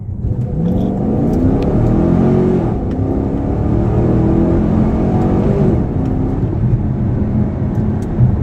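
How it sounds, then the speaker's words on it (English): A 2015 Camaro SS convertible accelerating in manual mode with paddle-shifted gears, its engine note climbing through repeated rising sweeps with short breaks at each shift, loud and close from inside the car. "I currently have the car in the manual mode, and I'm going to go ahead and use the paddle shifters here"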